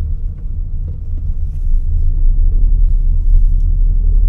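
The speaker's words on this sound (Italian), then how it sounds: "adesso siamo su una strada che ha un po' di ghiaia" A Dacia Sandero 1.0 TCe LPG driving over a gravel road, heard from inside as a steady, loud low rumble of tyres and engine that holds without a break.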